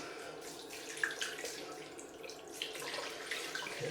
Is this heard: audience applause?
no